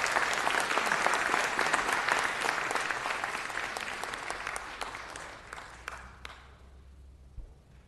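Audience at a city council meeting breaks into sustained applause, a dense wash of clapping that gradually thins and fades out, with a few scattered claps near the end.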